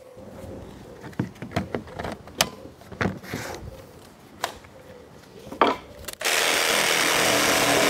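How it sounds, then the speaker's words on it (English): Irregular knocks and handling clatter give way to a jigsaw biting into plywood for a curved wall plate, its harsh buzzing cut loud and steady through the final seconds. "The jigsaw seemed to handle the job quite well."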